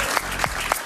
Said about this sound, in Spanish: Un aplauso para Luis Carlos.